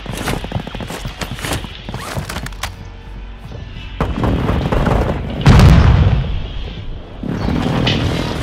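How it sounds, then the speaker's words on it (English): Heavy booms and thuds from airstrike explosions in Call of Duty roll through a dense game mix with scattered gunfire, peaking in a deep blast around the middle. "Hostile airstrike incoming."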